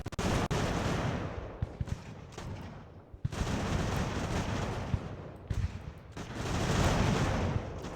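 Musket volleys and scattered gunfire crackle in dense, overlapping bursts during a Revolutionary War battle in Ultimate General: American Revolution, loud and continuous with brief lulls between rolling salvos.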